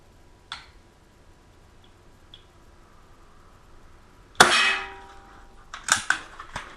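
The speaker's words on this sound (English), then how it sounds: "Let's just see what we get here with the first, say, 6 to 8 shots." An Umarex Strike Point .22 caliber pellet pistol fired outdoors, a faint click early on, then one sharp loud crack followed by a couple of quicker metallic snaps, quiet background between.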